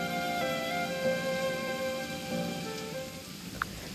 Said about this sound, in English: the first aiders who were held back by the heavy rain will arrive sooner